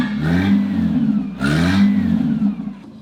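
A Toyota 1.8 four-cylinder engine revving outdoors, two loud climbing revs that each fade back down, moderately close.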